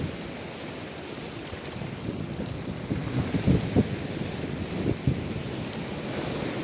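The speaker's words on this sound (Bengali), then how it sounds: "দেখতেছেন সাগরে প্রচুর ঢেউ আসতেছে" Waves rolling in at sea at high tide, a steady broad wash of surf with wind rumbling on the microphone throughout and a few louder swells breaking near the middle, no voices.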